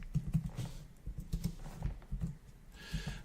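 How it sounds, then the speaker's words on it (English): Keys on a new computer keyboard clack in quick irregular bursts during C++ coding, close and fairly quiet, with short pauses between runs of keystrokes. "Still not very fluent with this new keyboard I've got."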